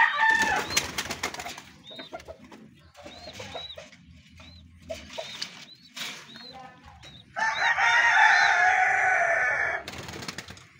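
A rooster crows repeatedly amid clucking chickens and other birds, with a loud rustling or flapping burst near the end.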